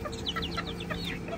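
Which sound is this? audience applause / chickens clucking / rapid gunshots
chickens clucking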